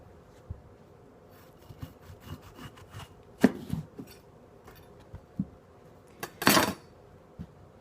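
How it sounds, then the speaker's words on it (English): A knife slices a cucumber lengthways down the middle on a board, with soft scraping and rubbing strokes, then two sharper, louder cutting bursts close by. "Then cut your cucumber lengthways, right down the middle."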